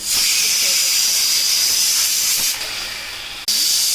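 Tomato rasam hits hot oil tempered with green chilies, cumin and mustard seeds and sizzles with a loud, steady hiss. The hiss dips briefly and then bursts back, full and close throughout.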